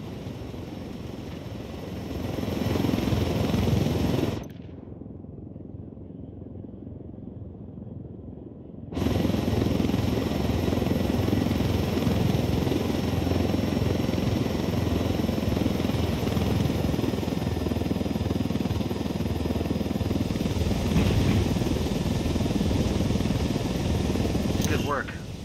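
Helicopter rotor and engine drone in Ghost Recon Wildlands, a steady loud wash that drops out briefly before returning and running on under voices.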